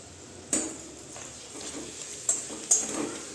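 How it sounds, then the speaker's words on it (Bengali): A lid comes off a pan of Bengali mustard chicken with a sharp metallic clink, followed by a few lighter clatters of metal against the pan, over a low kitchen background hiss. "5 মিনিট হয়ে গেছে, ঢাকনাটা আমি তুলে দিচ্ছি।"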